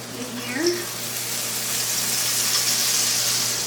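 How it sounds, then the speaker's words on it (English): Minced garlic hits melted butter in a pan and a broad, steady sizzle builds and holds, close and fairly loud, with a voice speaking briefly near the start. "let me go ahead and add all this garlic"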